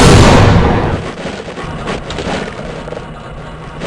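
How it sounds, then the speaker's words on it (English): A loud, deep explosion boom in the video game Half-Life at the start, rumbling and fading over a few seconds into a low background. "did you hear that explosion?"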